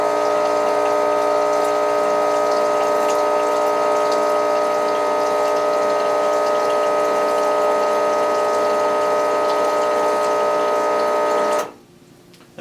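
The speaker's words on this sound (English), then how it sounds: "So I'm just going to open my valve here and turn on my water button." Rancilio Silvia single-boiler espresso machine pumping water through its open valve during descaling, a steady, loud mechanical hum with water rushing that runs unbroken for about eleven seconds, then cuts off abruptly.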